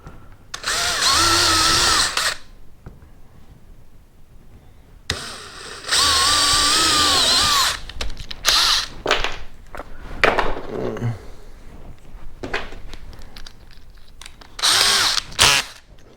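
A power drill pre-drills holes into a homemade styrofoam fishing kayak, whining in three loud bursts of a couple of seconds each with shorter blips between, separated by quieter handling clatter.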